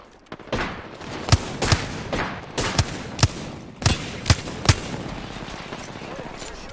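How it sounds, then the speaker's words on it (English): Enemy gunfire in the shooter game Apex Legends, a series of sharp shots and short bursts, several loud cracks spaced irregularly over steady background game noise. "The enemies are shooting at me."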